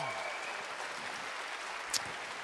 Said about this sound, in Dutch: Uw applaus, Jeff Kenny